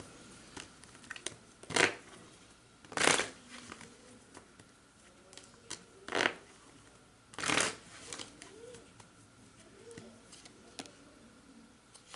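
Tarot cards being shuffled in a few quiet, separate bursts of riffling and patting, with soft pauses in between and faint low room noise underneath.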